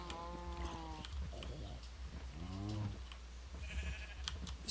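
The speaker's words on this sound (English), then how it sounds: "Oh, hello, sheep." Sheep in Minecraft (FTB Infinity Evolved modpack) bleat several times, a wavering nasal call near the start and another in the middle, with soft game ambience around them and no talking.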